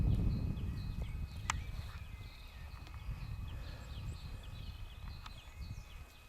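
Ponies walk outdoors near a tree, their hooves clopping softly and irregularly under a steady rustling background, with scattered bird calls overhead.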